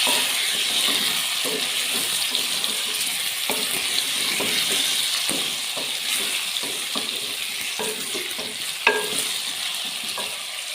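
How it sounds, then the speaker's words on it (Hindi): Potatoes sizzle in a pan as they are stir-fried, a constant close hiss broken by regular scraping taps of a spoon against the pan, with no one talking. "अच्छे तरीके से आलू की आपने भुनाई करनी है"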